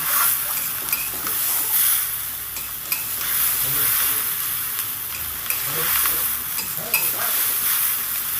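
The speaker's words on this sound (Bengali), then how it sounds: "সোয়া সসটা দিয়ে ভালো করে নেড়ে চেড়ে দু থেকে তিন মিনিট ভেজে নেব" Egg chowmein with soy sauce is stir-fried in a pan, sizzling loudly with repeated scraping and tossing strokes of a spatula at an uneven rhythm, heard up close.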